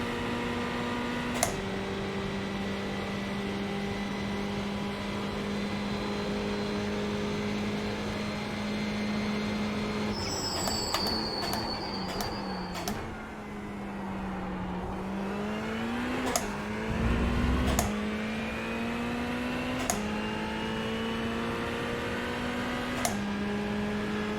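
A Ferrari GT3 race car laps Fuji in a racing video game, its engine droning steadily at high revs, with a few sharp gear-shift clicks, a dip and rise in pitch as it brakes and accelerates again.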